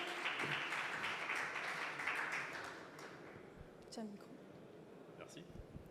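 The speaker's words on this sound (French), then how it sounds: "Et on peut l'applaudir" Audience applause at a stage event, fairly distant clapping that fades after a few seconds, with brief talk from a presenter audible over it.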